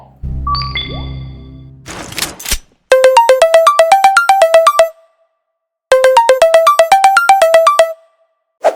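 Outgoing phone call ringback: a short burst of dialing and handling noise, then two loud, close sequences of a repeating melodic electronic ringtone, each lasting about two seconds, separated by a pause.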